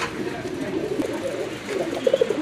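Pigeons coo steadily in a loft where birds and their young are kept for sale, low murmuring calls overlapping throughout, with a few louder, closer coos near the end.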